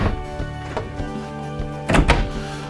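A slide-out pantry in a 2014 Heartland Landmark Key Largo travel trailer rolls and thunks shut, with a couple of softer bumps before one louder knock close by.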